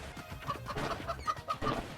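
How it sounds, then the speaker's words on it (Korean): Short clucking calls from chickens in the co-op moving game Moving Out, a few repeated bird-like chirps over busy game music and clatter. "닭이 있나봐."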